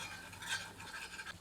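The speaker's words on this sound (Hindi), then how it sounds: "एक बार अच्छी तरह करछी चलाते हैं।" A ladle stirs chicken curry in a pot, soft scraping and light sloshing close by, faint and fairly continuous over a low background hiss.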